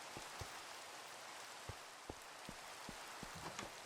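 Steady Minecraft rainfall hisses softly and evenly, with faint scattered drop ticks and light patters through it and no voices.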